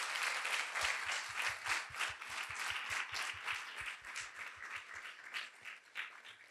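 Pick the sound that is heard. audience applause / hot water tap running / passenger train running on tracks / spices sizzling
audience applause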